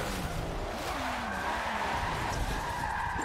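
A car slides and skids on stock tires in Forza 7 during a drift attempt, a steady tire squeal running unbroken for several seconds over the engine drone with no one talking.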